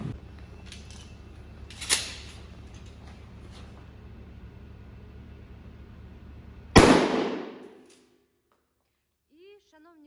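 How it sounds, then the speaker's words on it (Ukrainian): A single loud, close 20-gauge shotgun blast firing birdshot cracks out and decays, preceded by a fainter sharp pop amid low background hum. "Стріляти будемо з вами з 20 метрів дріб'ю."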